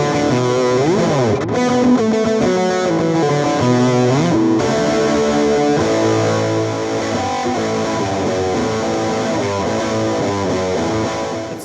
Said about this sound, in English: It's too much distortion, of course